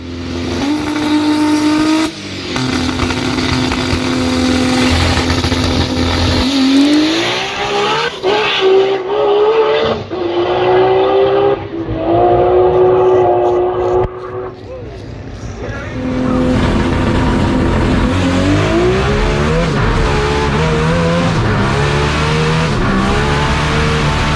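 A T56 six-speed Toyota Supra makes a drag racing pass, its engine screaming up through the revs, then dropping sharply at each gear change and rising again. It is loud and close, with a brief quieter stretch mid-run.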